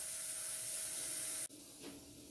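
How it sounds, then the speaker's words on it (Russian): Steam hisses loudly and steadily from the valves of an Afghan kazan pressure cooker, cutting off abruptly partway through, then continuing as a softer hiss with a brief surge near the end. "обязательно ждем, когда наш пар перестанет выходить с клапанов"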